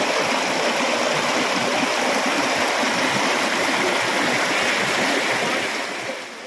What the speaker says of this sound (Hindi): इतने मोटे बर्फ के नीचे पानी निकल रहा है